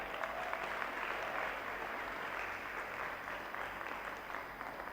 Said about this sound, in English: can you give my team a resounding round of applause?